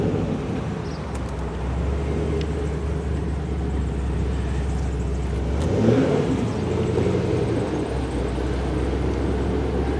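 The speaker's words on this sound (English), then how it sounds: "that is a ZL1 that just started up over there" A Chevrolet Camaro ZL1 starts up some distance away, and a steady low engine rumble swells into a brief rev midway before settling back to a rough idle.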